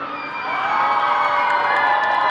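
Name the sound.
crowd applauding and cheering for the actor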